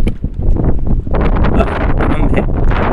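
Strong wind gusts buffet the microphone at a seashore on the Karachi and Balochistan coast, a loud rough roar that swells and rushes in bursts without speech.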